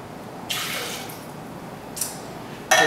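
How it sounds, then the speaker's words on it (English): Pineapple juice pours into a cocktail glass for a piña colada style Halloween drink, giving short splashy liquid bursts, close and fairly quiet with no talk. "We're going to do about 3 ounces of pineapple juice."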